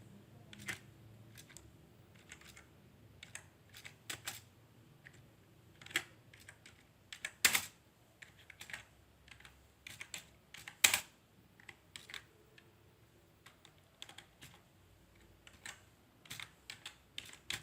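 Someone types on a computer keyboard while entering a message into a Google Form, soft key clicks in uneven runs with a few sharper taps, close and quiet, no speech.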